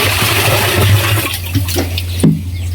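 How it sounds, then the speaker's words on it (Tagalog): A submersible pump pushes water out in a loud, steady rushing gush with a low motor hum underneath, briefly surging before easing toward the end. "Ito nga palang gamit kong submersible pump"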